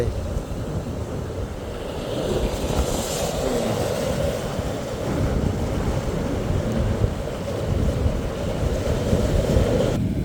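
Sea waves churn and crash continuously into rocky shallows along the Japanese coast, a dense, steady roar of surf with swells rising and falling, and someone speaking intermittently.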